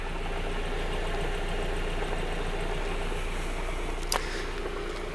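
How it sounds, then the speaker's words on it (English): A 1989 Nissan Silvia K's Turbo S13 engine idles steadily with a low continuous hum and a faint whirring undertone from a worn engine bearing, interrupted once by a brief sharp click. "there is a little bit of a sound coming from one of the bearings in the engine"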